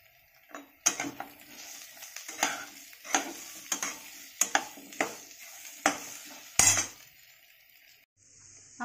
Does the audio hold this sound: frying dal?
yes